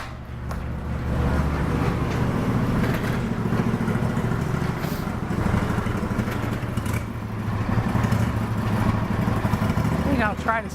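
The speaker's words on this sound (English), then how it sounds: "I kind of like the cam sound now. Makes it sound like a badass Harley." A cammed engine on a Craftsman DLT lawn tractor runs steadily, with a lumpy, rumbling idle loud and close throughout, and some mechanical clatter on top.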